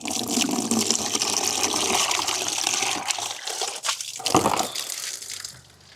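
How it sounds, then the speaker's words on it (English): Water gushing and splashing steadily from a village water source, drawn to wash sweet potatoes; the flow stays loud and continuous, surges briefly near the end, then eases off. "So I'm just trying to get water from the water source so that I can clean the potatoes"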